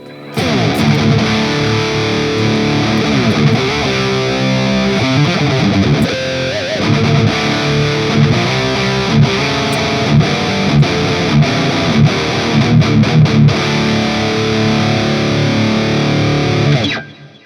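Heavily distorted electric guitar plays riffs and chugging chords through the modern channel of a REDSEVEN D100PRE high-gain amp, loud and continuous with no voices.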